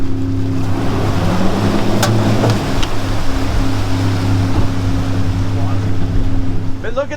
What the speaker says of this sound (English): that pulling forward and backing up is making big waves